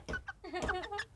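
Chickens cluck in a short burst of several quick, close clucks on a farm.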